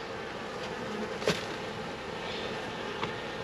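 Honey bees hum steadily around a hive frame holding brood during a package install, a soft, continuous buzz with a brief louder pass from one bee near the middle.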